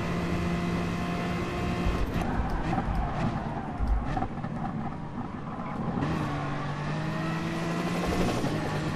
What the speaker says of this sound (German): Hubschrauber hier verwirrt mich immer ein bisschen. Ich wundere mich plötzlich immer, warum ich links oder rechts neben mir Sound habe.